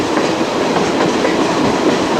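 A smoke-trailing steam train rumbles past on the rails around a curve, a steady loud roar with rhythmic clickety-clack of wheels, close by and continuous.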